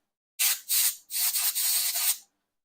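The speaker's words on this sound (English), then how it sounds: "Grab my air compressor." An air compressor blowing out the HDMI port of a PS5 console, heard as close, loud bursts of hissing air: two short blasts followed by a longer pulsing spray, then silence.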